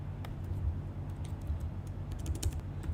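Typing on a computer keyboard, a quick patter of light clicks and taps over a steady low hum, fairly faint and close, with no voices.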